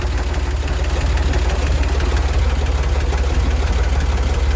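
A Corvair engine idles steadily and loudly up close, with a regular low throbbing pulse and a slight knocking vibration, and no talking.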